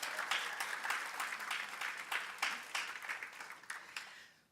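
A fairly quiet audience applauds at a 2016 student government induction ceremony, with scattered claps that come in waves and gradually fade away.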